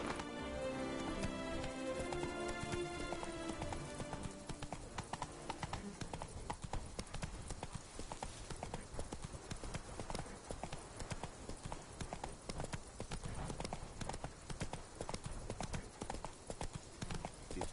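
Roach, a horse in The Witcher video game, gallops with rapid, steady clip-clopping hooves that run throughout, loud and close, over a busy game soundscape with what may be rain.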